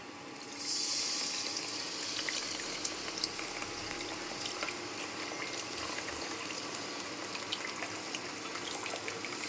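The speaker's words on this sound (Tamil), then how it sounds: "இப்போ கரைச்சதை எடுத்து ஊற்றுறோம்" Tamarind liquid pours steadily into a pan for fish curry with a soft, continuous gushing hiss, close by, accompanied by faint clinks and no speech.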